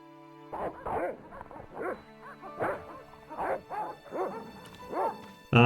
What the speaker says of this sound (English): The sound of dogs barking.